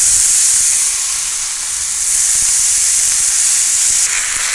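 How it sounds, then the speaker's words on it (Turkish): Freshly grated potatoes hit hot oil in a frying pan and give a loud, steady close-up sizzle and hiss for the whole stretch, with no voices. "Daha sonra hemen kararmadan önce hemen tavaya atıyorum."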